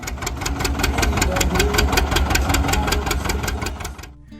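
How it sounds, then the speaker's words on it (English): John Deere 730 two-cylinder tractor engine running with a steady, even pop-pop beat, loud and close, cutting off abruptly at the end. "the John Deere 730 remained loyal to the large, powerful two-cylinder engine, creating a very characteristic pop-pop sound"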